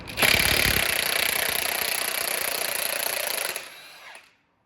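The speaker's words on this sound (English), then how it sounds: "I'm gonna take this axle nut off here. And that takes a 32mm impact socket." Impact wrench fitted with a 32mm impact socket removing the front axle nut on a 2008 to 2020 Dodge Grand Caravan, a loud close continuous buzzing hammer burst lasting about three seconds before spinning down.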